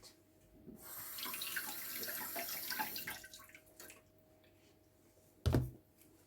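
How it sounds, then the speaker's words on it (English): A kitchen tap runs close by while carrots are washed, the gushing stream lasting a few seconds before stopping, followed by a sharp clunk. "First I'm going to wash and prep my carrot."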